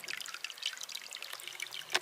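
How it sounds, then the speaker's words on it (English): Water trickles and splashes from a pipe spring at the top of Stratton Mountain on the Appalachian Trail, a faint, close, irregular dribble heard on its own. "Coming out of that pipe spring."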